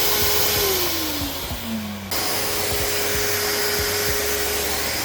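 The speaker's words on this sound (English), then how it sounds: "Heat gun and vacuum cleaner." Heat gun and vacuum cleaner running together on a 3000W Kings inverter, a steady loud motor whir and airflow roar with a falling whine early on, continuous throughout.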